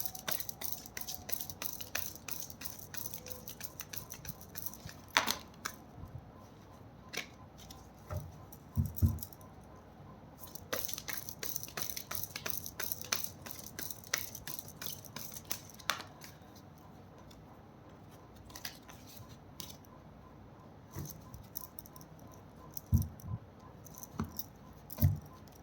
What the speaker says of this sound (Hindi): मैं अभी कार्ड शफल कर रही हूँ।